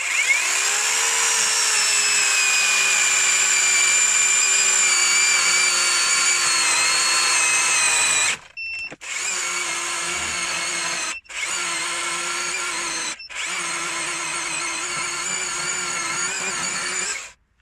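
A Procraft PKA40Li cordless chainsaw cutting wood whines steadily and loudly at close range, cutting out briefly three times before revving again, with no voices.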